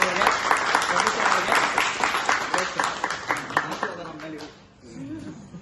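An audience applauds with dense, steady clapping at close-to-moderate distance, gradually fading out near the end, with voices mixed in underneath.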